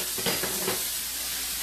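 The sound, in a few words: sausage meat frying in a skillet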